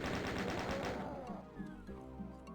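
Chaingunner enemies in Doom II fire a rapid burst of machine-gun shots in quick, even succession. The burst then fades into a decaying echo while other in-game sounds follow.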